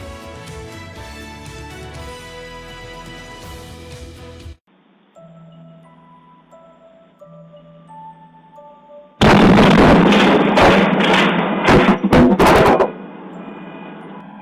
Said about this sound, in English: Oh my God, another explosion.